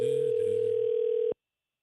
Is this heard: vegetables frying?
no